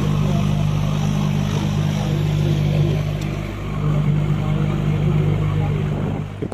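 A sightseeing boat's engine running on Ashtamudi Lake in Kollam, a loud, close, steady motor drone with a low hum that holds throughout.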